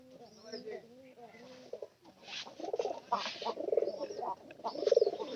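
A white pigeon coos repeatedly, soft rolling calls rising and falling at close range, with a person talking over part of it.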